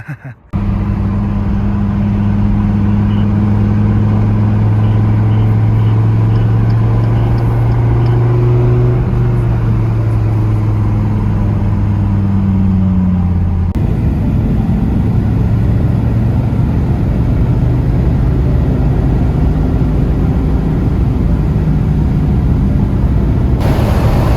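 A Gen V Dodge Viper V10 drones loudly and steadily, its pitch rising and falling through gentle revs before the tone changes and it carries on as a constant heavy engine roar, with no talking.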